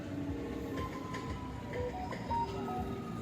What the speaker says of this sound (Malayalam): ഇപ്പോൾ ട്രെയിനൊക്കെ പോയിക്കൊണ്ടിരിക്കുന്നു.